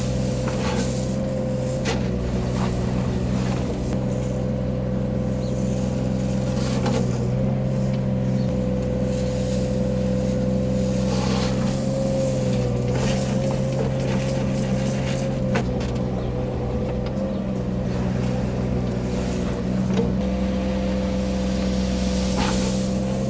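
Digger engine running at a UK driveway renovation, a steady close diesel drone with a constant low hum and faint revs, occasional clanks and knocks from the working machine over the whole stretch.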